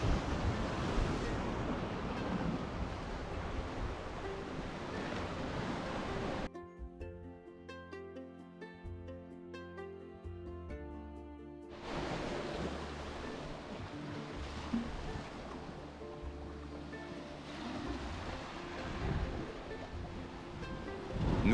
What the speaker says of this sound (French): Nous passons beaucoup de temps à regarder les vagues se briser contre les rochers et rouler sur les petites plages.